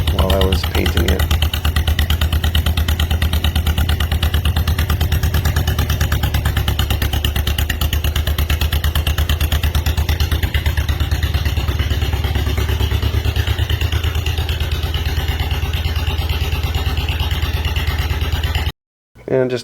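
Engines of a John Deere MC crawler and a 420 tractor run in a driveway, a loud continuous clattering idle with dense mechanical chatter that cuts out abruptly near the end.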